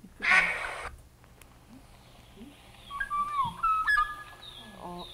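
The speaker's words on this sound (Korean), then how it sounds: "꾀꼬리예요, 이게." A black-naped oriole sings a few fluting, liquid whistled phrases in the second half, moderately clear, after an opening burst of broadband noise over a quiet outdoor background.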